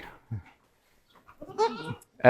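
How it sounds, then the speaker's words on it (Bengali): Adult farm goats give a few short, close bleats, with brief harmonic calls coming in bursts after a quiet gap. "সুযোগ পেয়ে বড় ছাগলগুলো ভেতরে ঢুকছে"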